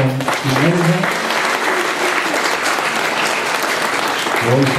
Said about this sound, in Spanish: Cariñosos aplausos para Nelson y Nelson.